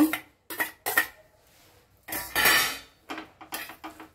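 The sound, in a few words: mashing hot masoor dal bharta with a spoon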